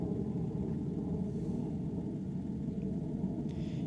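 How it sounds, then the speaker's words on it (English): A jet aircraft passes overhead as a steady, continuous low roar that holds at an even level throughout, with no talk over it. "That sound is a jet."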